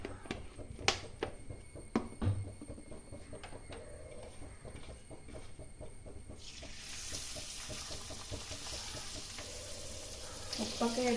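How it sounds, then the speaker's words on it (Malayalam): Fish roe fries in a pan with soft sizzling and repeated sharp scrapes and taps of a spatula, and a louder, brighter hiss swells in the second half. "നമ്മുടെ ഈ മീനിൻ്റെ മുട്ട നമുക്ക് വറുത്തെടുക്കാം കേട്ടോ"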